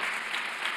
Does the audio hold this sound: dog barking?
no